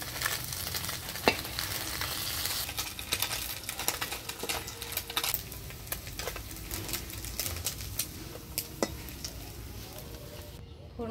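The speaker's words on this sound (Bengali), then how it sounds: "সেটা একটু কড়া করে ভেজে নেব" Small puti fish fry crisp in hot oil, giving a dense, continuous crackle and sizzle sprinkled with sharp pops, fairly close and steady before cutting off at the end.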